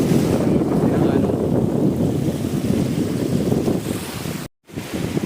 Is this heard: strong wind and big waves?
yes